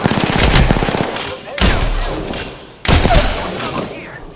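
Video game gunfire arrives in three loud, close bursts, each a hard thump followed by a rapid rattle of shots that fades before the next volley hits.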